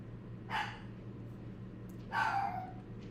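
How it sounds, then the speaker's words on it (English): Two barks from a dog named Lucy, each a short, bright burst at some distance inside a quiet room with a steady low hum underneath and no talking. "Lucy, what are you barking at way over there?"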